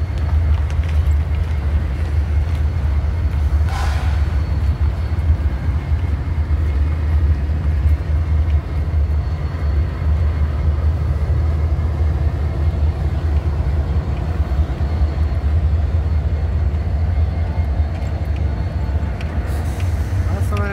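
A heavy Union Pacific freight train led by a GE Evolution locomotive, with a mid-train SD70ACE, rumbles steadily nearby in Houston, Texas, a deep constant drone filling the low end, with brief higher squeals and clanks now and then as it slows.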